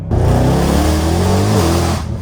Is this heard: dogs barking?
no